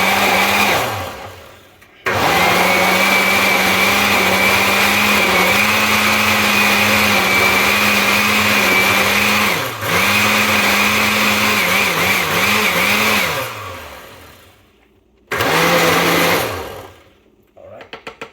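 A budget blender whirring at high speed through a fig smoothie, loud and close, running in long sustained bursts that dip in pitch as the load shifts, with brief pauses between runs.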